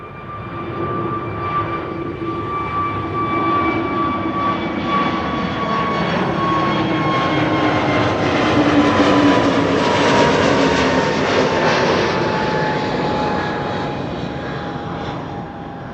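A Boeing 787 jet at Amsterdam Schiphol Airport roars steadily for the whole stretch, its engine whine holding thin high tones over a broad rushing noise that swells slightly toward the middle.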